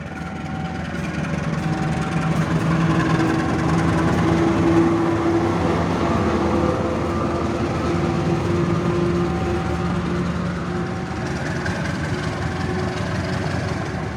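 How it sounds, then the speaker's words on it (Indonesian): A train passes nearby at Tanjung Balai with a steady, loud rumble and engine drone that holds for the whole stretch, with faint tonal hums over it and no talk. "Itu bang kereta apinya bang,"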